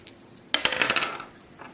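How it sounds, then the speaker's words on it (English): Two dice for a Talisman board game tumble and clatter across a hard surface, a sharp first strike followed by a quick series of rattling bounces that settle within a second. "she can roll 2 dice."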